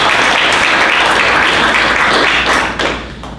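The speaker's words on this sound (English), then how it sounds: "Applause." Applause fills a city council meeting room, a dense, even wash of many hands clapping close by, sustained for about three seconds before fading out.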